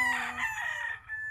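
A game-farm rooster crows once in a loud, drawn-out call close by, with a steady rhythmic rumble running underneath.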